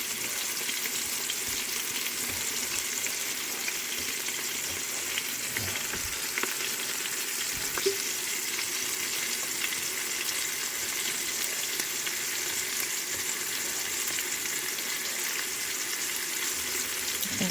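Oxtails browning in a hot frying pan for smothered oxtails, a continuous dense sizzle and crackle that holds evenly throughout, with a couple of faint knocks from the pan, close and steady.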